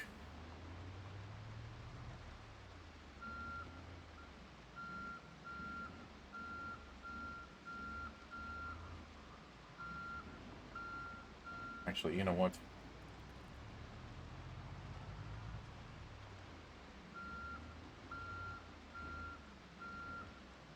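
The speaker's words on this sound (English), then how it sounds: "Let me go ahead and back up the truck." Truck reversing beeps from the video game Project Zomboid, a steady run of evenly spaced electronic tones over low engine rumble, pausing midway under a brief loud burst, with someone talking briefly.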